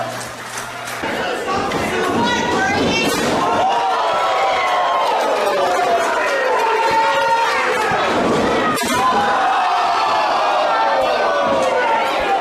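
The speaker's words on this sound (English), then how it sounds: "the crowd's chanting, this is awesome" A wrestling event crowd roars and chants continuously, loud and dense throughout, with a commentator talking over the noise and a sharp thud partway through.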